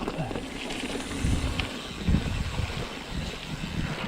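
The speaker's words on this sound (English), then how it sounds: "That wind was horrendous." Strong wind buffeting the microphone on a hillside walk in Swaledale, a loud continuous low roar with gusty surges, no voices.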